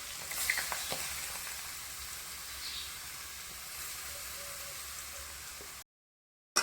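Grated carrot sizzles and hisses steadily in hot ghee for carrot halwa, close and continuous with faint stirring, then cuts to silence near the end.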